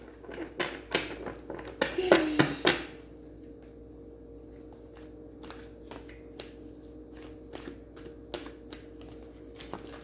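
A deck of cards being riffled and shuffled up close, a dense burst of flicking clicks, then softer scattered taps and card snaps.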